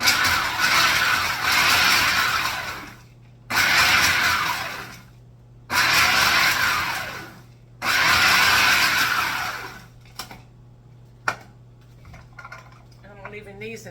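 Cookies being chopped in a food processor for a no-bake dessert, four loud whirring bursts of a few seconds each separated by pauses, followed by a couple of sharp clicks and quiet handling.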